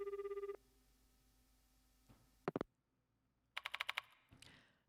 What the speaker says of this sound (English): I pick up the phone in the infirmary and punch in the mansion's number.